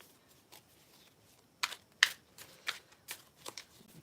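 Quiet, close riffling and soft slaps of tarot cards being shuffled in short bursts, with crisp flicks scattered irregularly across a few seconds.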